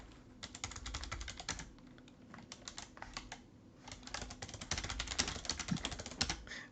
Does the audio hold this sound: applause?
no